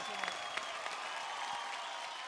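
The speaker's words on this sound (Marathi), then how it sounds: "जोरदार टाळ्या होऊन जाऊ दे" Studio audience applause on a Marathi dance reality show, a steady wash of clapping with a few sharper claps, fairly quiet and continuous throughout.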